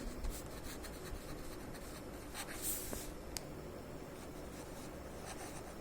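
Pen scratching steadily on paper as digits are written by hand while working a rounding exercise, a continuous close scratchy rustle with a few sharper ticks and no talk.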